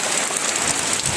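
Rain falls outside during the monsoon season on a wet morning, a steady dense hiss with no pause across the short moment.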